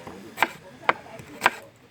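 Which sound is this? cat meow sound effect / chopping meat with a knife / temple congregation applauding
chopping meat with a knife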